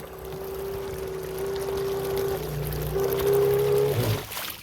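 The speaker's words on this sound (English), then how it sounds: "we immediately have water coming out the cooling system." A jet drive pump runs with water flowing out of its cooling system, a loud steady rush of water over a low motor drone whose pitch holds, dips and rises again before cutting off near the end.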